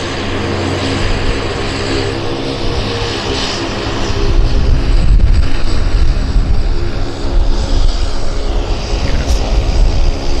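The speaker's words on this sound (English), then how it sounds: "Saab 340 taxing in." A Saab 340 turboprop airliner taxis at Vancouver airport, its steady propeller drone and engine rumble sounding close and loud throughout, swelling slightly midway.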